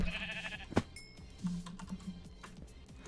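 Sheep bleats from a Minecraft morph mod, a short tonal bleat at the start and another about a second later, set against clicking keyboard-like noise and faint background sounds.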